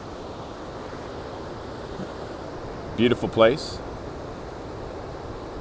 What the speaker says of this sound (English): So we're at Ocean Beach in San Francisco.